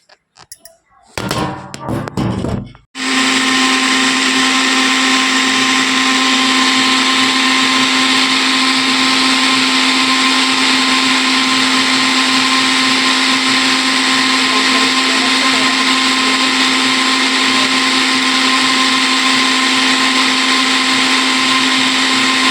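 After a few brief rattling bursts, an electric kitchen mixer grinds health drink powder in a loud, steady, continuous whine close by that runs unchanged until the end, with no voices.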